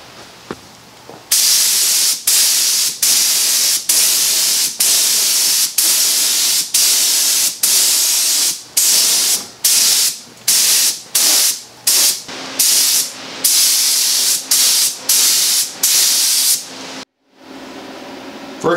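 Rust-Oleum Ultra Cover semi-gloss black spray paint hisses from an aerosol can onto an antique Singer treadle sewing machine base and cabinet, in about twenty close, loud bursts of steady hiss separated by short pauses, the bursts getting shorter toward the end.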